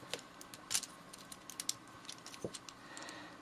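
Plastic parts on a Scout class Changer transforming figure click and snap as its feet are folded in, a scatter of small close clicks over faint hiss.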